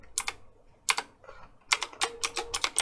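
Password being typed on a computer keyboard: quick bursts of crisp key clicks in short clusters separated by pauses, close and clear with no talking.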